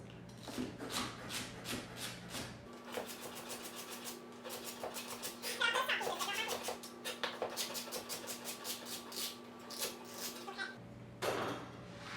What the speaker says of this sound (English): we're going to start off slicing up 4 stalks of celery